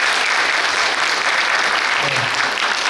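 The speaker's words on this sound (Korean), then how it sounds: "박수 한번 보내주시죠" Loud, continuous audience applause at a Korean educator's book launch event, a thick, steady roar of many hands clapping with no break.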